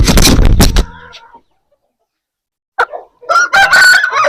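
An Aseel rooster crows loudly and close, a long call that breaks off into silence, followed by a burst of clucking and another short crow.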